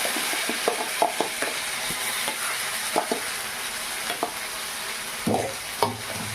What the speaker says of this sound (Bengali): পেস্ট করে রাখা মটরশুঁটি, কাঁচা লঙ্কা আর আদা, এই তিনটাকে যে পেস্ট করেছিলাম সেটা কড়াইয়ের মধ্যে দিয়ে দিলাম।